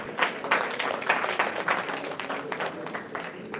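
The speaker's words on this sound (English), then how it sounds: "I think this deserves a round of applause." An audience at an annual general meeting gives a short round of applause honouring a former chairman, a dense patter of clapping that stays fairly steady, then thins out.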